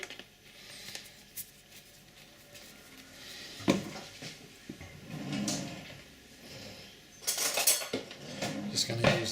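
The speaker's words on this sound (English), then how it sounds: "put the lid back on" Clattering kitchen handling of a container lid being fitted back on, with cutlery and dish knocks in uneven bursts, close and moderately loud, while preparing a mustard and honey glaze for roast gammon.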